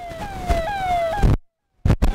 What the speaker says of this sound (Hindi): आप देख रहे हैं पुलिस की गाड़ी में मनभरी देवी बैठी है